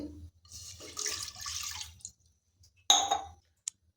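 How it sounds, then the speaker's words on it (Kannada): A glass of water poured into a pressure cooker in a home kitchen: a splashing pour for about two seconds, a pause, then a brief second splash and a small drip. "ಕುಕ್ಕರ್ ಬಿಸಿ ಮಾಡೋಕ್ಕಿಡೋಣ ಅದಕ್ಕೆ ಒಂದು ಗ್ಲಾಸ್ ನೀರು ಹಾಕೊಂಡು ನೋಡ್ರಿ"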